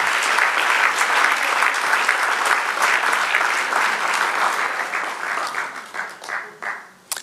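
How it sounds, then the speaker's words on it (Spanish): A church congregation breaks into sustained applause, a dense steady wash of many hands clapping that thins and fades toward the end, with no talk over it. "dale un aplauso"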